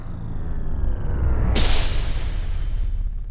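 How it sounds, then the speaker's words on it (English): A cinematic rise and impact effect from the UVI Meteor library: a rising whoosh sweeps up and peaks at about the midpoint, then breaks into a deep, loud booming impact whose low rumble sustains to the end. "This is a new sound effects library by UVI called Meteor"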